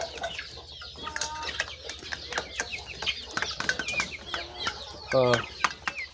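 A two-time champion fighting cock clucks repeatedly among other birds, with a brief flurry of wing flapping near the end and faint voices in the background.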